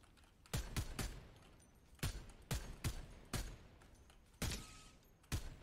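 Gunshots in the Fortnite video game ring out as loud separate cracks, about nine shots in irregular pairs and singles, clear against a quiet background.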